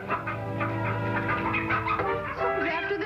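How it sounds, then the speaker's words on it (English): Chickens cluck and squawk in agitated, overlapping bursts on a farm in a 1956 television episode, fairly close and continuous, with no speech over them. "Someone's after the chicken."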